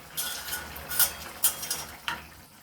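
Paneer posto is moved from a wok into a bowl with a utensil: a few soft, short metallic scrapes and taps, quiet and close, no talk.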